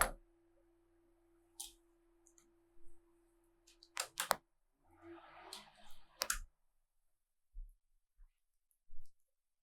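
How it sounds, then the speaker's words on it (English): Scissors snip a thin piece of paper for a silhouette collage, making sparse, crisp clicks and short cuts spread across a quiet stretch with long pauses between them; there is no speech. "So I'm just going to cut the tiniest, thinnest piece I can."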